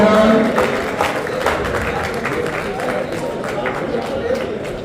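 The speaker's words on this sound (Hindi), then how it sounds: "पुरस्कार तालियों से उनका स्वागत करें" Crowd clapping at a pigeon-flying prize distribution in Patna, Bihar, a dense steady applause mixed with a busy murmur of voices, loudest at the start and then holding level.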